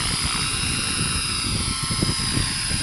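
An RC helicopter flies forward in fast flight, its rotor giving a steady buzzing whine with a rapid low chopping beat, close and continuous at an even level.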